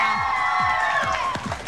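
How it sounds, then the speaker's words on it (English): Audience cheering and whooping with some clapping for a contestant at a game-show challenge, excited voices rising and falling close by. "Give him a huge round of applause."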